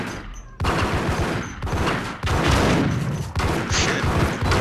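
Rapid bursts of gunfire in the Max Payne video game, dense overlapping shots and booms filling the clip in loud clusters after a brief quiet start.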